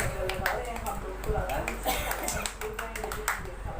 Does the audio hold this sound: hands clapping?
yes